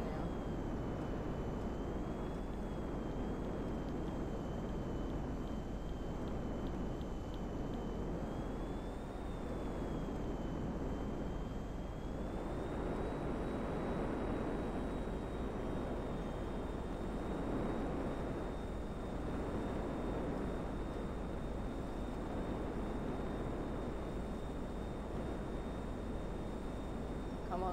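An aircraft engine roars steadily in Grand Theft Auto 5, a loud, unbroken drone with a slight rise in pitch partway through, heard alone for nearly half a minute.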